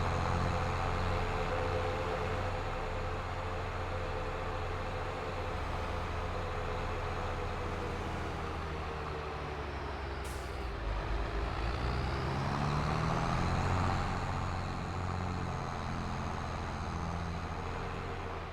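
A truck pulling a trailer in a driving video game, its engine drone steady and even throughout, with a brief hiss like an air brake near the middle.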